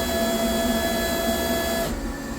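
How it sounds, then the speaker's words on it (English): An electric fuel pump in a turbocharged, Coyote-swapped car whines steadily with a high tonal hum over broadband noise, then drops away abruptly near the end. "when I step on it and the fuel pump kicks in"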